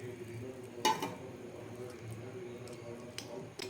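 Henna powder paste is stirred with water in a bowl, giving soft wet scraping and squishing with a few sharper knocks against the container, close and fairly quiet, with no talk.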